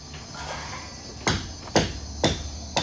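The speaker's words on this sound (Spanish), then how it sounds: "Ahí sigue Romario, está Chino, soldando." Metal work in a welding workshop, with four loud ringing metallic strikes spaced about half a second apart over a steady background hum.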